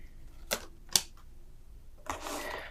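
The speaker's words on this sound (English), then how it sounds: "Let me put all the cards up." Tarot and oracle cards are laid out on a table during a reading, giving a few sharp close taps and snaps a fraction of a second apart, followed by a longer soft shuffling slide.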